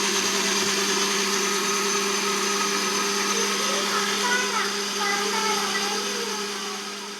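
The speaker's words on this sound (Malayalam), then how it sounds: "ഇനി നമുക്ക് അരി ആദ്യം ഒന്ന് അരച്ചെടുക്കാം നല്ലപോലെ അരയണം" A mixer grinder runs continuously on soaked rice for appam batter, a loud, close whirring drone with a steady motor whine that stays even and eases slightly toward the end.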